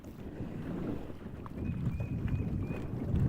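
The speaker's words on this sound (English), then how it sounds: "I'm gonna be out here in this wind and it's just gonna blow me all over the place" Wind gusting over the Stones River in March around a bass fishing boat, a steady broadband rush and buffeting on the microphone that swells louder in the second half, with a faint whistling tone and no talk.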